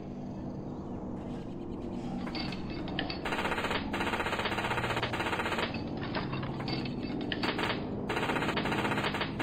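Rapid, sustained aircraft machine-gun strafing fire in the game Plane Mechanic Simulator, loud and continuous bursts rattling close with a busy mechanical chatter throughout.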